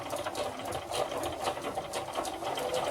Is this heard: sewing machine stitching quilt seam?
yes